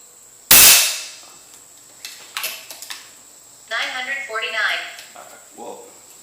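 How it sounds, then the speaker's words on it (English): An air rifle fires a slug at a target 50 yards away, one sharp loud crack near the start followed by faint metallic clinks, then a person speaks. "Alright, this time we're going to shoot for the bottom of the bullseye."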